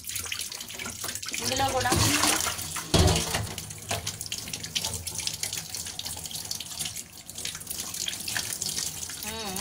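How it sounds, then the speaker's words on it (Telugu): Tap water runs steadily into a sink while a small chapati-sized lump of atta dough is washed by hand, splashing and trickling throughout, with a voice talking briefly over the running water. "ఒక చపాతీకి సరిపడేంత తీసాను, కడుగుతున్నాను."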